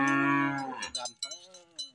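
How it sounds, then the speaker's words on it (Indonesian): A Belgian crossbreed cow lets out a loud, long, close moo, followed by a few shorter grunting lows and some rustling nearby. "Jadi sapi viral dari Belgia."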